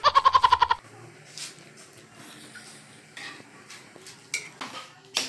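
Blood stew (dinuguan) being stirred in a cooking pot: a quick run of about eight rhythmic metal clinks at the start, then quieter scraping and scattered knocks of a utensil against the pot.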